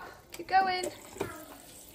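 Water runs from a tap into a cup as a young girl fills it to the top, making a soft steady trickle beneath encouraging adult talk.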